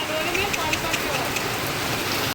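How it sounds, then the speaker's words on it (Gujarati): Heavy rain pours steadily in a dense, close hiss that stays constant throughout and cuts off abruptly at the very end. "જો આવો વરસાદ"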